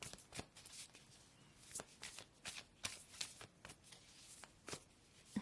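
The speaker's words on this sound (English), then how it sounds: "So let's pull 4 cards." A deck of tarot cards is shuffled and drawn by hand, heard up close. It gives a quick series of crisp riffling and sliding bursts in an uneven rhythm, with no speech.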